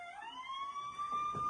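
An ambulance siren wails, a single tone sweeping upward and then holding high, fairly faint and heard alone.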